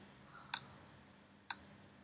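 Two crisp mouse clicks, about a second apart, sound close and quiet while options are being selected on a website.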